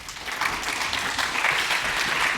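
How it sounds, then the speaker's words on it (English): An audience at a tech conference on Kubernetes supply chain security gives a speaker a welcome, with dense, sustained clapping from a large crowd filling the hall. "please welcome on stage with a huge applause, Adrian Mouat from Scotland"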